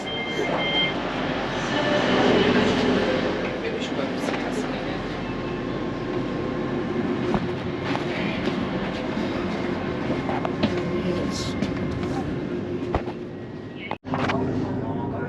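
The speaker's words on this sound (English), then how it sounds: "The other end is a GWR leased Great Northern train." A Great Northern passenger train rumbles steadily at close range at Welwyn Garden City station, with a low mechanical hum and faint squeals, voices murmuring underneath, ending in a brief dropout.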